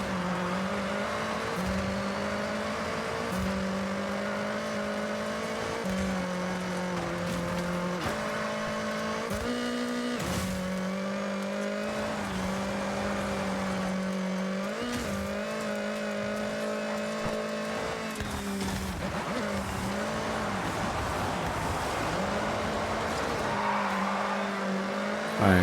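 Race cars in the Forza Horizon video game hold a continuous engine drone, with gear shifts, surges of revving and brief tire noise over a steady road rush across the whole stretch.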